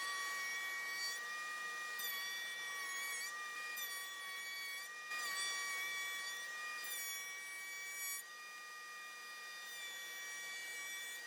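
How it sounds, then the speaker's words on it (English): A router spinning a 1/2 inch slot cutting bit to cut a rabbet in wood, a steady loud whine with a few brief dips in pitch as the cutter bites into the workpiece, no voices. "We'll do the rabbet first, and then we'll do an edge slot."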